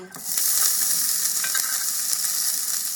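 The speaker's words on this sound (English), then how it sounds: "once it's heated, I'm going to saute some of these herbs" Shallot, garlic and onion hitting hot oil in a pan for curried chickpeas, a sudden loud sizzle that swells and then holds as a steady, close frying hiss with light stirring clinks.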